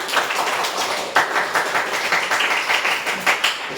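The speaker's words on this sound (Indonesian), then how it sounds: "berikan tepuk tangan untuk kelompok 2" A class claps steadily together in a room for a student group's presentation, a dense patter of many hands that keeps going without a break.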